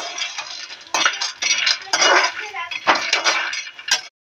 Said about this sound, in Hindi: अभी बादाम भूनेंगे हम।